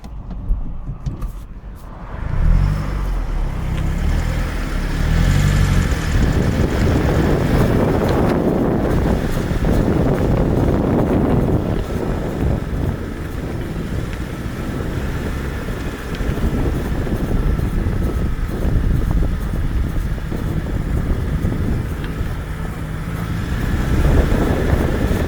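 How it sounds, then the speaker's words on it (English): A 2007 Mazda 3 MPS drives slowly around a car park while turning, its cabin filled with steady road and wind rumble, with a faint rubbing noise from the driver's side front wheel buried in the continuous drone. "sort of rubbing noise coming from the front wheel. It sounds like driver's side front wheel"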